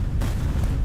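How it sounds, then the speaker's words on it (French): Salvo of twelve rockets firing from the deck of the WWII submarine USS Barb at night, a heavy sustained low roar and rumble that fills the short stretch without pause. "Tirez les roquettes! Une explosion de lumière blanche illumine le pont lorsque les 12 roquettes décollent"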